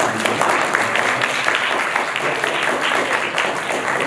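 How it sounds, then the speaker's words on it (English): An audience applauding to welcome footballer Youri Djorkaeff, a dense, continuous wash of clapping that holds at a steady, moderate level throughout. "You guys can clap more than that"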